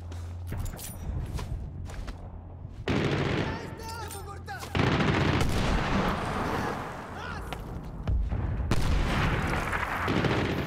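Gunfire in the shooter game Medal of Honor: Warfighter: loud bursts of automatic rifle fire and heavy booming shots crackle through most of the stretch, some close and some farther off, with someone talking faintly in places.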